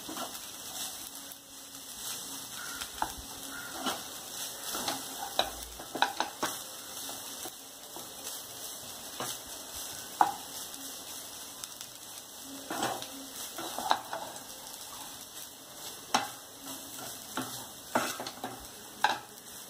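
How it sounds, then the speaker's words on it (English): Rice and vegetables stir-fried in a non-stick pan, a spatula scraping and tapping in irregular strokes over a soft, steady sizzle. "Mix both vegetables and rice evenly."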